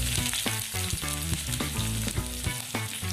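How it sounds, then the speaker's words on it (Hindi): Onion frying in hot oil with mustard seeds, cumin and curry leaves for a potato masala dosa filling, a loud close sizzle broken by rhythmic stirring scrapes and pops, no talking. "ऑयल अच्छे से गर्म हो गया तो अब हम डाल देंगे राई, जीरा, कड़ी पत्ता,"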